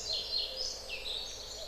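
A small forest bird, the soechka, sings a soft, high warbling phrase of rising and falling notes, faint and quiet against a still spring woodland background.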